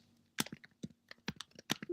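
Keys clatter on a computer keyboard in irregular bursts of close, crisp clicks, played alone with no voices.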